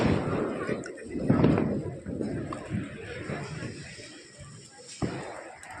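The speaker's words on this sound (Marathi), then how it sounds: "हा काय फटाका फुटतोय" Firecrackers bursting outdoors during Diwali celebrations, a few sharp pops and booms scattered through a noisy, busy background with people's voices around.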